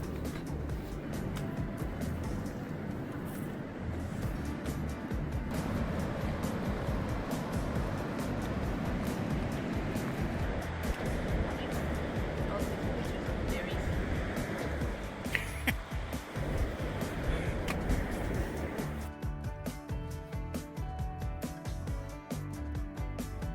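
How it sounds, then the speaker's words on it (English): Ocean waves surge into Devil's Churn, a narrow natural rock channel on the Pacific Northwest coast at high tide, giving a steady, loud broadband roar and wash that continues throughout. "Devil's Churn is a natural channel that is fed by ocean waves"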